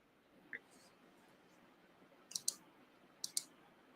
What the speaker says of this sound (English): I can hear you clicking in the background